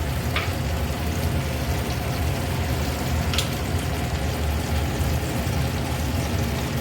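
Paneer mixture frying in hot oil, a steady dense sizzle with the spatula stirring now and then, close and continuous with no talking.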